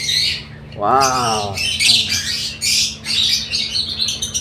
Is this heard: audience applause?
no